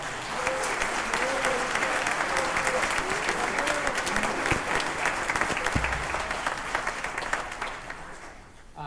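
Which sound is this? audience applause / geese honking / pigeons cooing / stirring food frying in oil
audience applause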